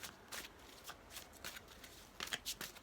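Tarot cards being shuffled by hand, a series of soft papery riffles and slides repeating in uneven bursts, close and moderately quiet with no talking.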